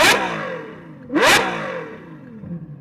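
A Ferrari 812 fitted with a Novatec exhaust gives two loud, sharp revs about a second apart, each a sudden roaring burst that quickly falls away, heard close with no talking.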